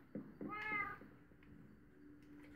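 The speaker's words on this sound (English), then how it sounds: "So this is the police station, my police cat." A cat in a video game gives a single clear meow near the start, preceded by short chirps, then a quiet hum and an abrupt sound at the end.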